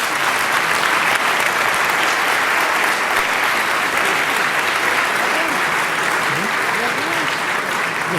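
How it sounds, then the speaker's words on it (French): A seminar audience in a French-speaking hall gives steady, sustained applause at close range for about eight seconds, with a faint voice briefly audible near the end. "Je crois qu'on peut les applaudir."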